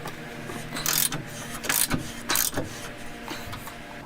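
A wrench turning the torsion bar adjustment bolt on a Dodge Dakota, a series of close ratcheting clicks in short bursts with brief pauses between turns.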